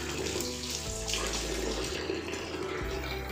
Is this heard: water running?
yes